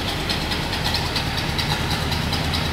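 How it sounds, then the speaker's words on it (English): Overhauled flathead V8 in a 1936 Ford five-window coupe idling smoothly, a steady even low rumble with a regular pulsing beat, heard close with no talking. "Hear how smooth and nicely that overhauled flathead V8 runs."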